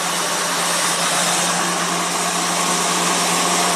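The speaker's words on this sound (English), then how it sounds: "There it is, runs nice and smooth." A Ford V10 motorhome engine idling steadily just after starting, a smooth continuous drone with a low hum and no talk over it.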